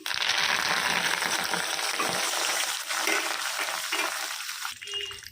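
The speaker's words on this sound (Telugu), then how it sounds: "సో ఇలా వేడి అయిన ఆయిల్లో ఇవి వేసేసుకుందాము" Hibiscus leaves and flowers drop into hot coconut oil over a low flame, giving a loud, continuous close sizzle with some stirring and rustling throughout.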